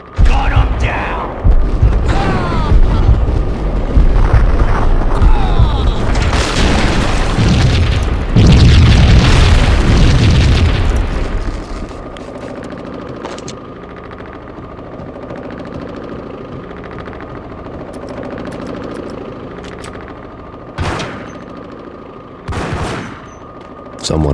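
Heavy gunfire and booming explosions from the Max Payne game fill the first half, loud, dense and overlapping, then drop to a quieter ambient stretch broken by a few sharp isolated blasts.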